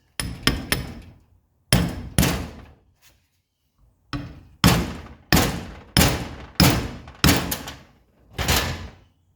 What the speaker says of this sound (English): we're going to get a hammer and tap that in there